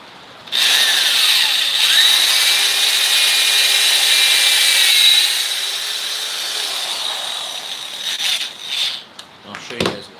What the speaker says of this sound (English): we're going to drill into it.